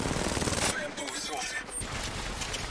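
Rapid automatic gunfire from the mobile battle royale game Apex Legends Mobile, loud and dense bursts that dominate throughout, with in-game voice callouts mixed in.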